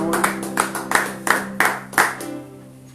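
Church congregation clapping together in a steady rhythm, about eight loud unison claps roughly a third of a second apart, with a sustained musical tone beneath, fading out at the end.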